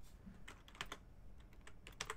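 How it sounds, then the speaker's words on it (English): Keys clatter on a computer keyboard in irregular, unhurried clicks as someone types with one hand, close and fairly quiet, with no voice present. "I'm bad at typing with one hand here."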